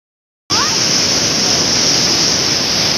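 Strong sea waves on Mangalore beach in Karnataka, heard as a loud, continuous roaring surf that starts abruptly and holds steady without any clear breaks between crashes.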